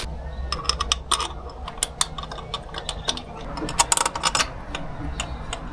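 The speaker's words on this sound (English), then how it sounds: "Now let's put in the nuts and the two long 12mm bolts." A ratchet clicks in quick bursts while 12mm nuts and long bolts are tightened on the IAC valve of a 7th-generation Toyota Celica, the pawl's sharp ticks coming close up in irregular runs.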